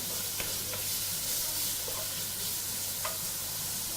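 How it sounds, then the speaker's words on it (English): Bacon pieces sizzle steadily while being tumbled and broken up in a pan on a Weber Spirit II E-310 gas barbecue, with occasional faint scrapes of stirring over a constant low hiss. "So just tumble these around, break them up, release the fat from the bacon."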